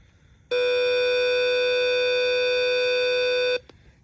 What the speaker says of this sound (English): The horn, it's pretty loud. Listen to this.